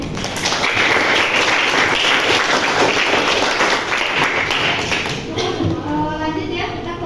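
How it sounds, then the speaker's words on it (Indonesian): Classroom applause from a group of students, dense and steady clapping at close range for most of the clip, then thinning out near the end. "Kita semua silakan tepuk tangan."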